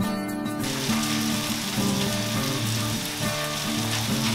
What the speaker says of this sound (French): On y met nos oignons et les lardons.